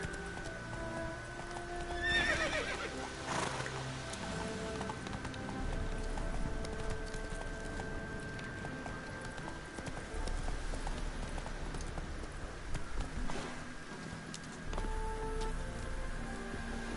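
A horse in The Witcher 3 whinnies and gallops, its hooves clip-clopping in a steady rhythm through a soft patter of rain, with a loud neigh early on and another later.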